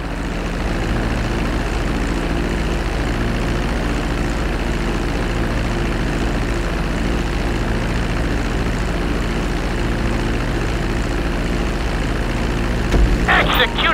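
Plane engine in GTA V flight school on landing approach, a steady loud propeller drone that holds close and even, ending with a brief thump near the end.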